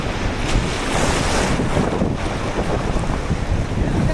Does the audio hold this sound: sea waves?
yes